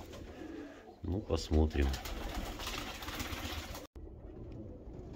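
Pigeons coo in a large loft of 112 nests being cleaned for winter, low repeated calls close by, partly under a voice speaking Russian.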